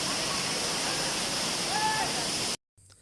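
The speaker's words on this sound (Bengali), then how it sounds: "আমরা এই ছোট ঝর্ণার মধ্যে একটু গোসল করে সামনের দিকে এগোচ্ছি" A small waterfall at Khoiyachhora in Chittagong, where people bathe, gives a steady, even rush of falling water that continues at an unchanging level, then cuts off abruptly near the end.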